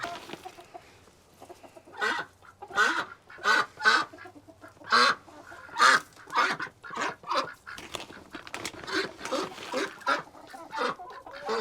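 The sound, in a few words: chickens clucking while eating Grubterra feed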